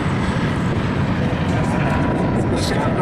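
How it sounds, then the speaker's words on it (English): Westland Scout utility helicopter flying at an army aircraft display, a steady loud broadband engine and rotor roar filling the whole clip without pause. "The Scout now showing its ability, again a very, very excellent utility helicopter"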